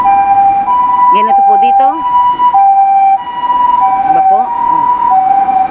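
An ambulance siren wails steadily with a repeating two-tone pattern as it passes along a street in Gunma, Japan, loud and close, while people speak briefly over it.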